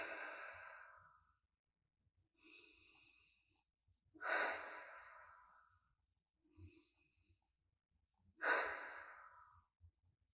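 A slow, deep breath drawn in through the nose after cinnamon is rubbed between the hands, heard close and quiet as three soft sighing inhales and exhales with pauses between them, and no talking.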